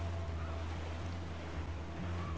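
A sailing ship out on the open sea in Assassin's Creed IV Black Flag, with continuous rushing water and wind over low hull rumble, steady and moderately quiet, no voices.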